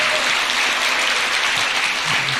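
A crowd at a Korean diaspora convention claps loudly and enthusiastically, sustained full-room applause, close and steady with no break.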